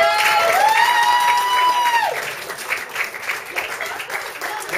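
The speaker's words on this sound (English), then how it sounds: "let's have a nice round of applause for all the staff at the Abbotsley Golf" Applause and cheering from guests at an amateur theatre awards dinner at the Abbotsley Golf Hotel, honouring the hotel staff; a full round of clapping with a whoop early on, steady and moderately loud.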